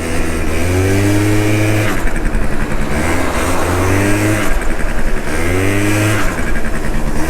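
An MBK Booster scooter with a tilted carburettor pulls away under close, loud throttle, its two-stroke engine rising in pitch three times in repeated surges with brief drops between them.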